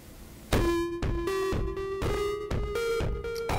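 Music plays back through a Realistic TR-101D two-head reel-to-reel tape deck, a series of loud sustained tonal notes starting abruptly, each phrase restarting with a sharp attack in a steady rhythm, heard alone.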